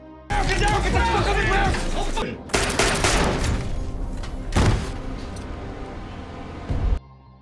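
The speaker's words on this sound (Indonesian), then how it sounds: "Tak segan-segan, dia menembak mati pelakunya di tempat." Gunfire in a gangster film scene of a battle inside a prison, heard as loud, dense bursts of shots packed into a busy action soundtrack that runs continuously.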